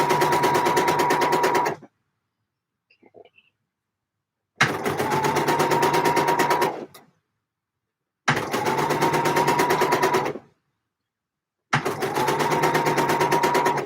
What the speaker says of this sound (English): This seam is not taking me a million years to sew